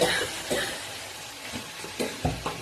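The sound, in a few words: onion stalks frying in a wok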